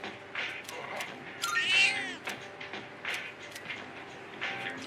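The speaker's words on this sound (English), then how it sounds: "The cat is purring loudly. It seems happy." A cat meows in a video game, one drawn-out rising call standing out amid shorter mewing and purring-like texture, all over a busy, steady background with repeated soft clicks.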